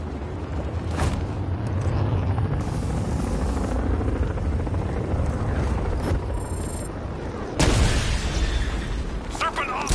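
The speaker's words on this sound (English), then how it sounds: "You can resume helicopter patrols." A helicopter in Batman Arkham Knight drones steadily throughout, mixed with game sound effects and a loud burst or boom near the end of the stretch.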